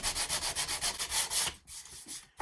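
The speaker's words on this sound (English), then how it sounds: "So we sand it up." Hand sanding of dried wood putty on a wooden sawhorse, close and loud rhythmic back-and-forth strokes about six in the first second and a half, then a few quieter scrapes.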